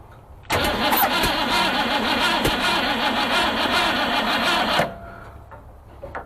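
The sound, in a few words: 1966 Mustang engine cranking and firing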